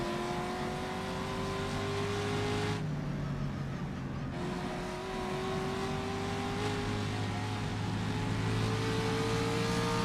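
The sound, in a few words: Ferrari race car driving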